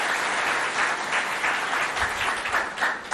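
Children in a school hall applaud at length, a steady wash of many small hands clapping that keeps going without a break, with no talk over it.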